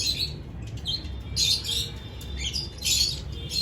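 Shrill chirps and squawks from lovebirds and pigeons in a bird colony, bursts of calls repeating every second or so over a low background rumble, fairly close, with no talking.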